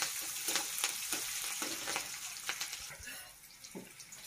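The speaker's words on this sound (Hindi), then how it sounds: "प्याज डालेंगे और 2-3 तेजपत्ता डालेंगे। इन सारी चीज़ों को हम अच्छे से लाल होने तक भून लेंगे।" Onion and two or three bay leaves frying in a pan for potato dum curry, with a continuous close sizzle and rhythmic scraping stirs that fade softer toward the end.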